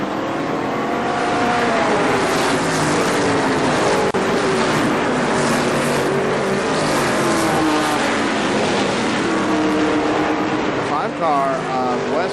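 ARCA SuperCar stock cars racing at Kil-Kare Speedway in 1998, a loud continuous roar of multiple engines at full throttle with rising and falling pitch as cars sweep past, under a commentator's voice throughout.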